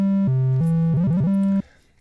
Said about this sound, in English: a fast arpeggio effect